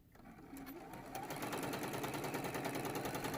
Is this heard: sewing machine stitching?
yes